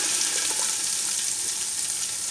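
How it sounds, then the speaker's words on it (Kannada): A ground milk mixture hits hot ghee in a pan for rice payasam, setting off a loud, dense, continuous hissing sizzle close up that holds steady for a couple of seconds. "ಈಗ ಇದು ತುಪ್ಪದ ಪಾತ್ರೆಗೆ ಅದು ಹಾಲು ಗ್ರೈಂಡ್ ಮಾಡೋದು ಹಾಕುವ."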